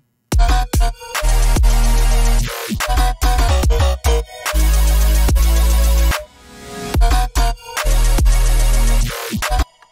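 Loud, heavy melodic dubstep with a thick sustained Serum synth bass and choppy, stuttering cuts, briefly dropping to a lighter filtered passage before slamming back in.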